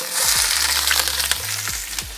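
Vegetables sizzle loudly in hot oil in a carbon steel wok on a Kamado Joe grill, a dense close crackle with a few sharp pops and a low steady hum underneath.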